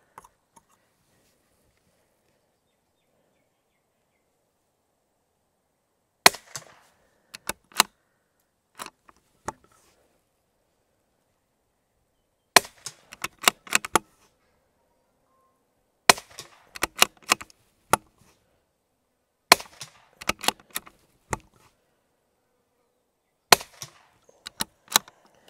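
Rifle shots fired as a group over a Labradar chronograph, sharp single cracks with pauses of a few seconds between them, some in quick pairs, loud and close against a quiet background.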